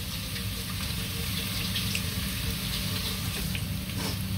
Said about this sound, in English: so let me rinse my hands off.